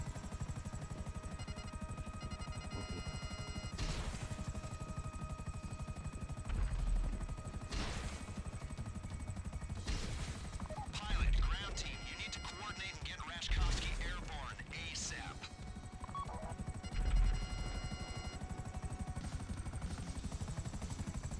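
Pursuing helicopters in the video game GTA V, a continuous rotor drone with bursts of gunfire and impacts layered on top, while players talk over the game sound.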